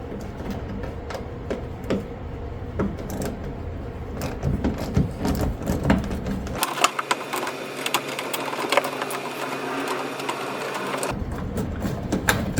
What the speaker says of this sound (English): so I'll just be unscrewing those just to kind of get that rim going.